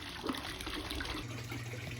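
Water from a garden hose runs steadily into a koi pond, a continuous close splashing and gushing that stays even throughout.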